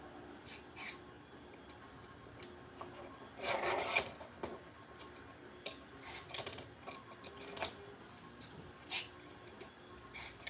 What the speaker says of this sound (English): It's a contact cleaner, and I don't want to do too much. It just sort of sprayed more than I expected to.